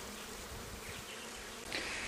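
Honeybees buzz around a hive box during queen rearing, a dense steady drone of many insects close by with a brief higher whine near the end.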